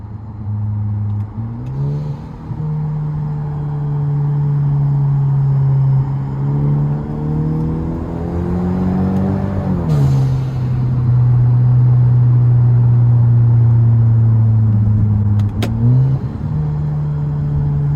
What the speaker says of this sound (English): I dropped the next gear right beside that man, bro.